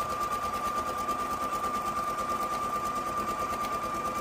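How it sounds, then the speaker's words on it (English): Sewing machine stitching fabric for a girl gnome, a loud, close, steady rapid mechanical whir with an even pulsing rhythm, running alone without talk. "then sew the other side the same way"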